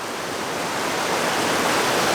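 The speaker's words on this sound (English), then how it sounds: "To the left of me here, there's a little waterfall." A small waterfall with water dripping and trickling down beside a trail near a cave-like opening, heard as a steady, close, broadband rush of falling water with no talk over it.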